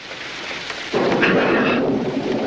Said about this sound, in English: Man, it's raining hard out there.